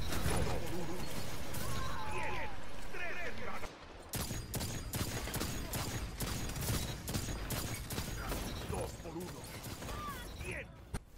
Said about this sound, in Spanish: Solo escuchen cómo dispara y lo letal que puede llegar a ser.